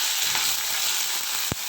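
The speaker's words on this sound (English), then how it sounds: "Now both the jeera and mustard seeds are frying." Mustard and cumin seeds fry in hot oil for a tadka, a steady close sizzle with one sharp pop near the end, no voices.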